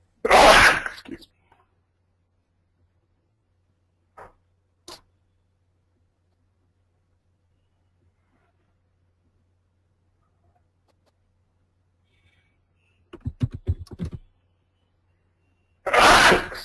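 Two sharp sneezes from a person nearby, one at the very start and another at the end, separated by long quiet with a couple of faint taps and a brief rustle of movement in between.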